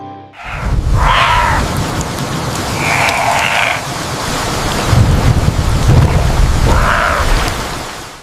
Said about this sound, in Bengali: জঙ্গলের বৃষ্টিতে উপচে পড়ল পুকুর।